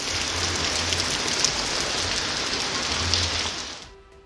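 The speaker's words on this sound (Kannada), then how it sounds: "ಶಿವಮೊಗ್ಗ ನಗರದಲ್ಲಿ ಧಾರಾಕಾರ ಮಳೆಯಾಗಿದ್ದು ಜನಜೀವನ ಅಸ್ತವ್ಯಸ್ತಗೊಂಡಿದೆ." Heavy downpour over Shivamogga city: a dense, continuous hiss of rain striking surfaces that holds steady and then fades away at the end.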